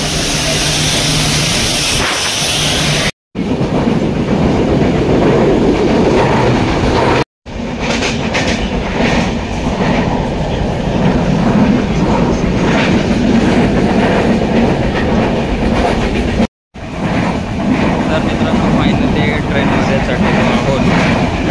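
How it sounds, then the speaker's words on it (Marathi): A passenger train rolling into a station at night, loud and close, with a steady heavy rumble and rhythmic clatter of wheels on rails filling the whole stretch, briefly cut out a few times. "ट्रेन देखील आलेली आहे"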